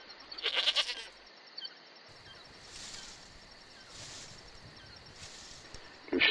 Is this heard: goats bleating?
yes